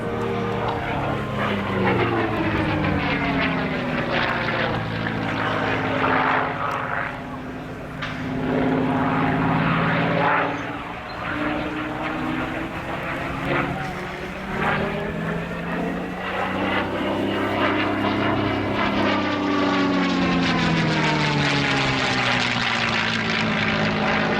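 A Mustang propeller plane's engine roars as it climbs and dives through a loop at an air show, pitch sweeping up and down, loud and continuous with a distant crowd-like wash.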